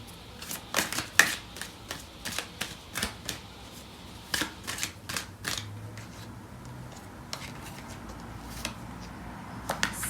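Tarot cards are shuffled and handled close by, giving a quick run of soft riffling snaps and flicks at first, then sparser single card slaps, all quiet.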